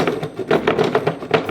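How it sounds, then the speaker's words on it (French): A small saw built into a hand-forged Viking axe cuts a piece of wood in quick, rhythmic rasping strokes, close and moderately loud. "Là, j'ai ce morceau de bois. Je vais essayer de scier ça."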